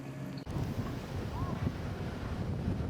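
Strong wind buffets the microphone in a continuous roar, with sloshing water and waves in a pool underneath, in Belize.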